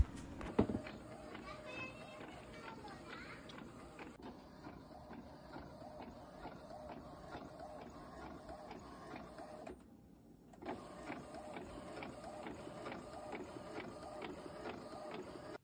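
An office printer runs off A4 calendar pages with a steady, continuous mechanical whir and hum, a brief clunk near the start and a short pause partway through, close by with no voices.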